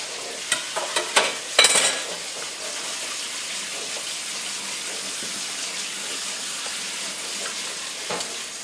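Grains are rinsed under a running tap or kitchen spray, with a few sharp clatters and splashes at the start, then a steady, close rush of water running on alone.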